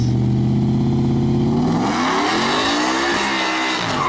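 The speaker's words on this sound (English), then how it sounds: "Coyote swapped 4-wheel drive F100. Basically, I'm sure you all have seen Cleetus's videos. Second gear launch, 4-wheel drive." A Coyote-swapped four-wheel-drive Ford F100 launches in second gear: a loud engine drone climbs sharply as the tires squeal and scrub, then the roar rises and sweeps in pitch, with no talking.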